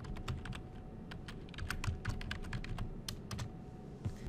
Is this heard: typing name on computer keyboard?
yes